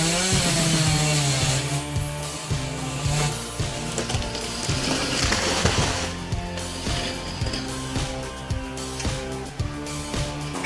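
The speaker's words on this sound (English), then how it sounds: "let's now witness the moment of felling a massive tree during the winter" A chainsaw cuts through a massive tree during winter felling, its engine roaring loudly and continuously with revving surges throughout, close up and alone without talk.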